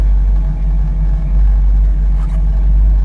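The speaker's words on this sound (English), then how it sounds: "Take the Camaro here for a spin." A 1968 Chevrolet Camaro SS V8 rumbles loud and close as the car drives, a deep steady engine drone with slight swells in revs and no talking.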